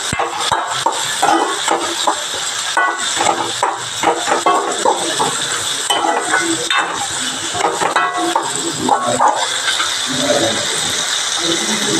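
Tomatoes fry in a hot pan for a tomato chutney, giving a steady hiss of sizzling throughout, broken by scraping and clinking as they are stirred.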